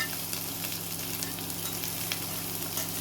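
Sliced onion, carrot, ginger, green chillies, cabbage and capsicum stir-frying for soft noodles, a steady dense sizzle with faint scraping of a ladle, close and continuous.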